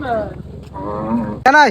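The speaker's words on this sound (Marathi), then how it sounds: "कुठे बैल आणलं का बघ" A bull lows twice on a village ground, a long drawn moo followed by a short, loud, close call, with no voices over it.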